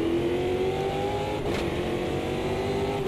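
Race cars at the Adelaide street circuit in the racing game Automobilista 2, engines droning loud and steady at the start with a rising rev tone, no talk.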